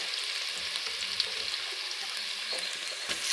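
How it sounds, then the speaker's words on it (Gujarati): Sliced onions fry in a pan with garlic for a desi doda vegetable dish, giving a close, continuous sizzle with light stirring clicks and scrapes. "આ વાતરેલી ડુંગળી નાખી દીધી"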